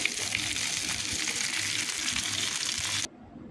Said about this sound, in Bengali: এই যে মাছ ভাজি করে নিচ্ছি